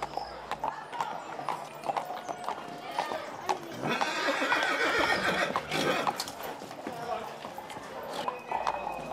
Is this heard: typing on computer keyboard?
no